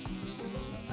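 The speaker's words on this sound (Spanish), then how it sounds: "¡Es una mosca!" A housefly buzzes close by for about a second, a steady droning hum with slight wavering, heard alone without talk.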